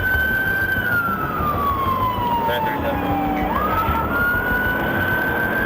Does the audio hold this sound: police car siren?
yes